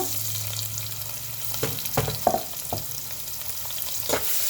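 Onions go into hot oil with mustard seeds and garlic in a pan for an ivy gourd fry, giving a close, steady sizzle with a few stirring scrapes and clacks partway through.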